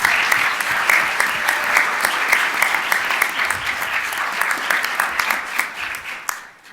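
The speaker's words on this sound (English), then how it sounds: "If we can just please give them a round of applause for their incredible work" An audience at a city council meeting claps for Girl Scouts, steady applause with distinct individual claps that thins out and fades at the end.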